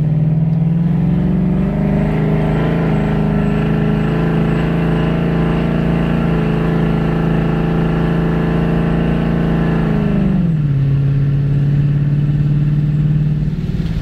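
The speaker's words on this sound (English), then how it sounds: "Let's take this car for a drive and show you how the car drives with a 6F converter." A 2015 Ford Mustang with a 6R80 automatic transmission, 6F torque converter and headers drives along, its engine droning loudly and steadily at a fairly constant pitch before dropping as it shifts near the end.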